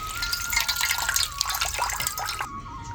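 Fresh spinach leaves being swished and rinsed in water in a home kitchen, a steady close splashing and dripping that runs without a break and cuts off near the end, with no talking.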